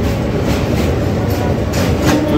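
The Madurai to Chandigarh train halted on a bridge gives off a loud, steady rail rumble with a continuous low roar and faint metallic rattle, close and unbroken throughout.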